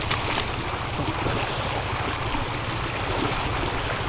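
Selwyn River flowing over a shallow, slippery streambed, a steady broadband rush of moving water close by with a constant level throughout, no voices.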